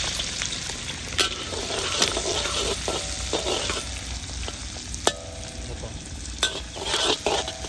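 Onions and green chillies stir-frying in a pan at a village kitchen, a steady close sizzle with occasional scraping clicks of a spatula, no voices.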